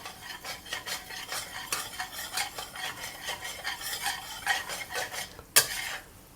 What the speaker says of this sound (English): Slowly fry the sugar.